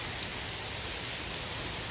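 Steady, dense roar of torrential thunderstorm rain pouring down outdoors in northeast Ohio, a continuous hiss with no gaps, loud and close, alone without voices.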